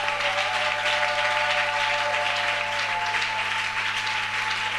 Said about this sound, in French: Donnez une forte acclamation.